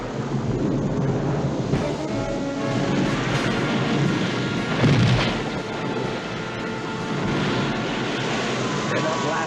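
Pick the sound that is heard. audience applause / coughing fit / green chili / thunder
thunder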